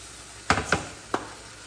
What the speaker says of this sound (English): I'm just gonna go ahead and saute the garlic along with the tomatoes for 30 seconds or so